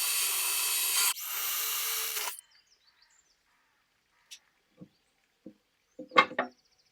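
A drill bores holes slightly larger than the screws during a furniture makeover: two loud, whining bursts, close and steady, then a few sparse, soft knocks and taps in near silence.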